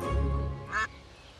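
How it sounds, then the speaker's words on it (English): An Indian runner duck, an upright-standing breed, gives a close, loud quack followed by a shorter nasal call, with no talking. "He's an Indian runner duck, so he stands very upright"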